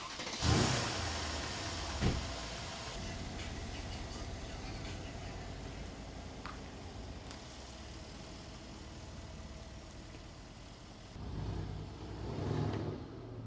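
A Mercedes-AMG car engine idles steadily after an oil change, with a couple of brief louder rises near the start and end.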